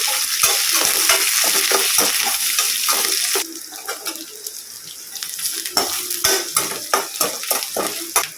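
Onion, garlic and betel leaves sizzle and scrape in a hot pan as they are stirred, with repeated spatula clatters; the sizzling quiets midway, then stirring strokes continue.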